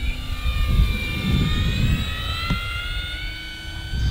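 An E-flite RV-7 1.1 m electric RC airplane passes overhead with a steady high-pitched motor whine, its pitch slowly sliding as it flies by, against outdoor wind rumble.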